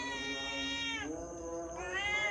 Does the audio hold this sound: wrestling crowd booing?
no